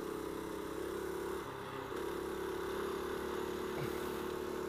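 A Predator 212cc mini bike engine drones steadily as it climbs a hill, a continuous close buzz with a brief dip in load partway through.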